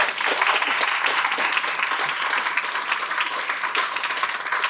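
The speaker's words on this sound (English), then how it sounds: "Join me a round of applause for Nikki and Ian." A dense round of audience applause for Nikki and Ian at a talk at the Groundswell event, steady and sustained throughout with no speech, loud and close.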